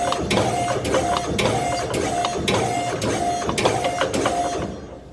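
A Safan B-shear sheet metal shear cycles rapidly in high-speed cutting mode, giving about eight evenly spaced sharp mechanical clunks, loud and close, with a whirring drive between strokes.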